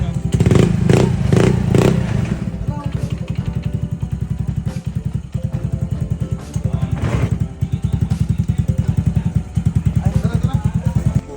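Motorcycle engine fitted with new parts, rapid revving bursts at the start, then a steady close idle with a throbbing, pulsing rhythm and occasional clatter, with people talking nearby.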